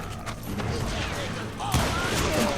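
Rifle shots ring out in the Western shooter game Call of Juarez: Gunslinger, loud booming reports over dense battle noise and music, with a sharp blast standing out partway through.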